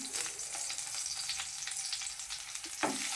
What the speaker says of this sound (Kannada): ಇದಕ್ಕೆ ಒಂದು ಒಣಮೆಣ್ಸಿನ್ಕಾಯಿ ಹಾಕ್ಕೊಂಡು ಸ್ವಲ್ಪ ಫ್ರೈ ಮಾಡ್ಕೊಳ್ಳೋಣ.